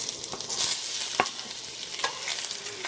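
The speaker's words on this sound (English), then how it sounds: "we're going to saute them a bit" Garlic and ginger sauté in oil in a pan for a vegetable stir fry, with a steady close sizzle and a few sharp scraping stirs of a utensil at intervals.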